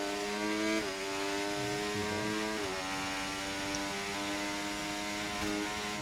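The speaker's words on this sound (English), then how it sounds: "It just sounds like they're like over revving their engine for no reason." A high-pitched racing video game car engine whines at sustained high revs with wheel spin, its pitch jumping up and down a few times, steady and buzzing throughout.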